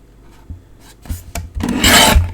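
Card paper being trimmed for a handmade sketch card, a few short rasping cuts building into a louder, sustained slicing stroke near the end, close and clear with no talking.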